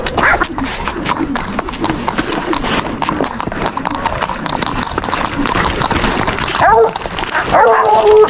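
Dog barking and yipping on a ranch during steer roping, several sharp barks scattered through a busy outdoor scene with hoof clip-clop and people calling out nearby.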